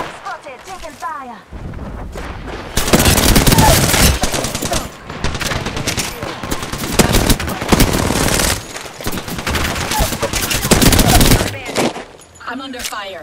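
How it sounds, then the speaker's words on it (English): Dense, loud bursts of automatic gunfire and rapid shots from a multiplayer shooter match, with sustained firing across most of the stretch, brief lulls, and game voice callouts layered in. "I'm under fire."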